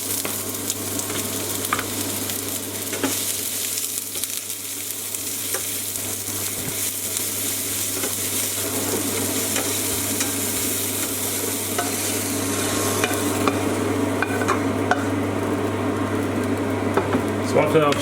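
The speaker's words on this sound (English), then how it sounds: "So after I've sauteed the onions, I take them out" Onions sautéing in a pan at home, a steady broadband sizzle with occasional stirring scrapes, continuous and moderately close, with a low steady hum running underneath throughout.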